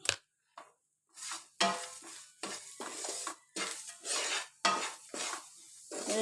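Sugar is stirred in a pan to brown it, with a spoon scraping and clinking against the metal in short irregular strokes, separated by brief pauses, close and fairly quiet, with a faint sizzle.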